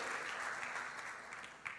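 A church congregation applauds steadily, a dense, fairly distant wash of clapping with no talking over it.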